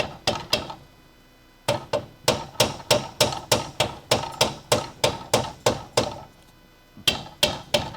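Hammer blows strike a leaf spring bushing on a Crew Cab Charger under restoration, sharp metallic hits in a steady rapid rhythm with two short pauses, close and loud.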